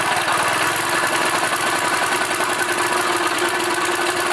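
An old engine on older equipment idles loudly and close by, with an even, rapid knocking chug and rough mechanical vibration running without a break, and no talking.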